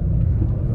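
A 2016 Suzuki Ciaz engine revving hard gives a loud, steady low rumble that drones without a break for under a second.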